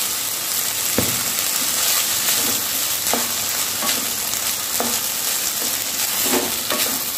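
Spices and rice fry in oil in a pan for paneer pulao, giving a steady close sizzle with periodic scraping stirs of a spoon, and no talking.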